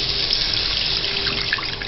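Strained tamarind water pours steadily into a cooking pan of sautéed tomatoes, making a brief, continuous splashing rush heard close up and alone.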